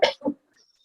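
Two short, harsh coughs in quick succession, close up, followed by near silence.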